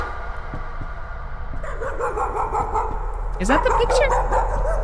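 Dog barking and yipping inside the horror video game Layers of Fear, several sharp barks mixed with game noise and a person talking over it, growing louder toward the end.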